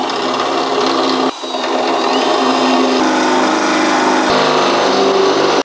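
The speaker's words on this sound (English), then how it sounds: "we're gonna start that with our small bits, and we are using a little bit of cutting oil" A drill with small bits and cutting oil boring through a steel truck frame on a 2014-2018 Chevy Silverado 4x4, giving a loud, steady, close whine that runs almost unbroken with two or three brief catches.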